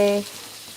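Food sautéing in a pan during Sunday home cooking, a soft continuous sizzle that starts a little louder and settles into a steady low hiss, heard up close with no talking.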